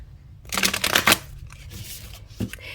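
Riffle shuffling a thick tarot deck with trimmed, colored edges produces a brisk ripple of cards lasting about a second, followed by softer taps and a final short burst, close and crisp.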